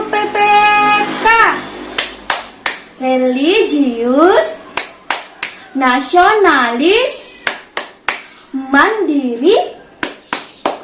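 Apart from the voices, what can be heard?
rhythmic clapping in a class clapping chant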